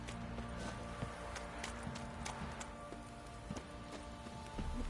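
Steady clip-clop of horse hooves walking in a video game, mid-distance, over a constant low background hum.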